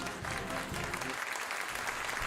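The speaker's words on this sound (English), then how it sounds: "I love the applause." A radio show's studio audience applauds in a short, dense burst of clapping that begins loudly and thins out toward the end.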